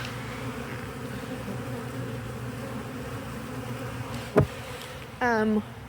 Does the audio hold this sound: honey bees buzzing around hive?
yes